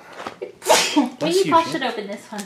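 A person lets out one loud, sharp allergy sneeze, a sudden burst right after a short spoken remark, with talking resuming immediately around it.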